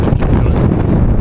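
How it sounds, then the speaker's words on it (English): Strong wind buffets the microphone atop the Acropolis in Athens, a steady broadband roar with low rumbling gusts that persists through the whole short stretch. "it's pretty windy though,"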